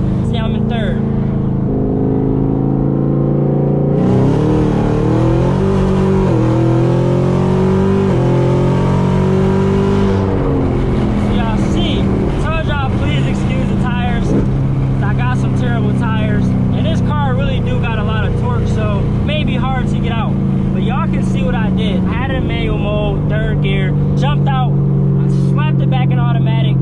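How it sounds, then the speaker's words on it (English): A Camaro ZL1 pulls from a 40 mph roll with paddle shifting, its engine note climbing loudly through the gears with clear shift breaks and rising pitch sweeps, close and powerful, while a person talks over it. "So I'm gonna do a little 40 roll, maybe a 45."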